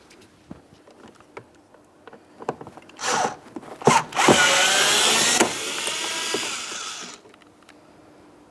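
A tool backs a T20 torx screw out of a 2008-2016 Chrysler Town & Country front door panel, producing a whirring, grinding run of several seconds amid small clicks and handling noises, close and fairly loud.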